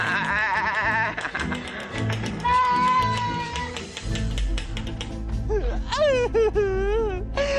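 A goat bleats in wavering, quavering cries toward the end, following a loud, busy stretch of mixed noise and voices close by.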